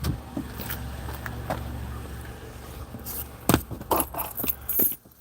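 Keys jangle and scrape in bursts while someone loads a packed car, with rustling and clatter building toward the end, fairly close and alone without talk.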